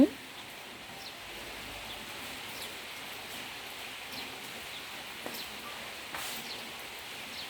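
Light rain falls steadily outdoors after a night of rain, a soft, even hiss that stays faint and continuous throughout, with no voices over it.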